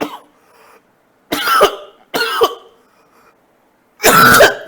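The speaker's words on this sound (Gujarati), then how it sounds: "થોડા દિવસથી બોલવાનું વધારે છે, એટલે ઉધરસ વધારે આવે છે" A man coughs in three harsh bursts, two close together and a louder one after a pause, with a short throat-clearing sound at the start and silence between.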